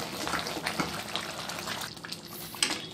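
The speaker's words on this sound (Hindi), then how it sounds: "अब आलू को टमाटर को अच्छे से भूनते जाएंगे। इसको भूनते भूनते मैश करते हुए भूनेंगे।" Potatoes and tomatoes frying and being mashed in a pan: a close, continuous sizzle with wet squelching and scraping strokes, and a sharper clack near the end.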